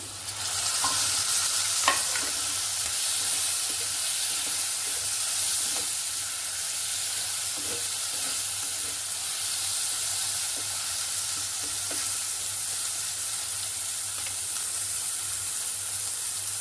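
Tomatoes hit a pan of spinach and potatoes, a dry palak batata bhaji, sending up a steady close sizzle, with occasional light scrapes and taps of a spoon stirring through it.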